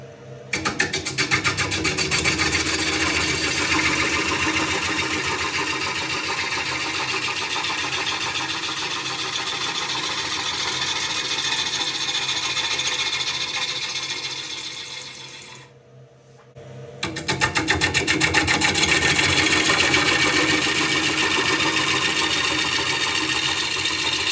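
A wood lathe gouge rough-turns the outside of a bowl in an aggressive, efficient cut that tears grain. The cutting noise is a loud, steady, broadband roar that runs continuously, breaks off briefly near the end, then resumes just as strongly.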